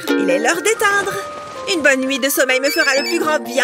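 A mobile phone ringtone plays a bright, repeating melodic chime throughout, moderately loud beneath someone speaking over it indoors.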